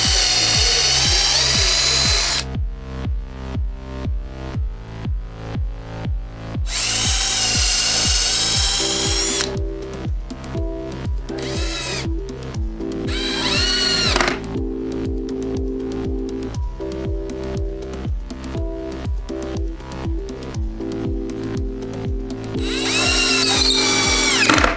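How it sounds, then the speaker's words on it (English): A cordless power drill and driver bore, countersink and drive screws into the wooden base of an arcade cabinet, with repeated close, loud bursts of motor whine, ratcheting clutch clicks and short pauses, and no talking. "we can drill, countersink, and screw the bottom in place"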